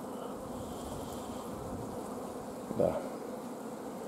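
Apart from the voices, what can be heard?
honey bees buzzing on brood frames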